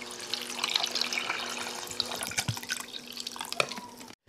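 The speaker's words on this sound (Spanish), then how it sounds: "Agregamos 12 onzas de agua o puede ser caldo de pollo." Twelve ounces of water is poured into a pan for a cream cheese shrimp pasta sauce, making a steady close trickle with small splashes and drips for about four seconds. No voices are heard.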